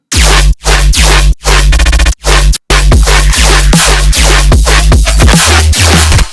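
Metallic tearout riddim bass synthesized in Serum, with a fat sub underneath and soft-clipped low end, plays loud and alone as a harsh, gritty wall of stuttering distorted bass with brief silent gaps between rhythmic chops.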